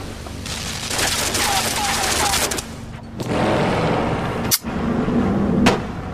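A turret in the video game Limbo fires a rapid burst of gunshots, loud and continuous for a few seconds, then single sharp shots follow, while a player talks.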